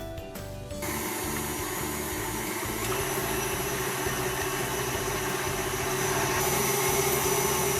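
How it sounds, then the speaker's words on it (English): An electric stand mixer with a whisk attachment beats egg whites with cream of tartar, a steady loud motor whir that starts abruptly and runs continuously without pause. "Now I already have my whisk attachment attached on my mixer. I'm gonna add that in there, and we're gonna whisk, whisk, whisk."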